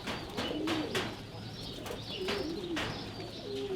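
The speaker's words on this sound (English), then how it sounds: "Hearing the birds," Pigeons or doves kept as pets coo in a soft, repeated rhythm, several rolling calls close by over steady outdoor background noise, with no talking.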